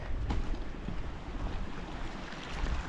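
Clear mountain creek water at Karst Springs in Kananaskis runs beneath the spot in a continuous broadband rush, close and steady, with no talking.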